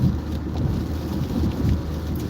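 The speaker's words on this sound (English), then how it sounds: "Still raining. It's been raining the last 3 days." Rain hits a car driving at highway speed on the I-94 during days of wet weather, a steady low roar of road and rain noise with soft spattering, continuous and close.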